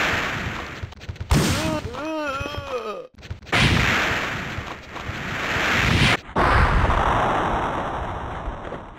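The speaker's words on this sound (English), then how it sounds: "So I'm going to test it on zombies just to show you what happens when they explode" Zombies bursting apart under a weapon in Resident Evil 3: Nemesis, a run of loud, dense blasts and crackling bursts filling the clip, separated by short gaps, with a person briefly laughing early on.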